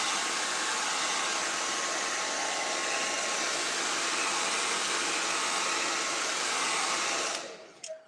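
A hair dryer blasts air over wet acrylic paint, a loud, steady, close hiss-and-whir held for several seconds before it cuts off abruptly near the end.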